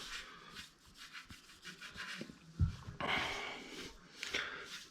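A sponge rubs grout over a tile backsplash, soft repeated scrubbing strokes at close range, quiet and rhythmic, with a firmer swipe partway through.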